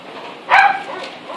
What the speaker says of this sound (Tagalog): Patayin mo nga yung volume ng aso.